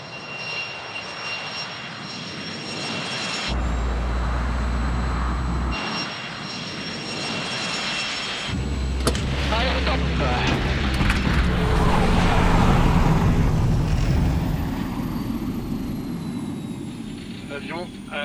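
Aircraft engines on a runway during an emergency braking test at 300 km/h, a loud sustained roar with shifting pitch and strong low rumble, swelling toward the middle, while people talk over it.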